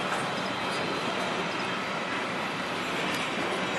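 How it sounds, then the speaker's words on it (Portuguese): An empty Rumo freight train carrying pulp wagons passes close by, making a loud, continuous rolling roar of wheels on rail with faint squeals over it and no break in the noise. "O famoso trem VCP"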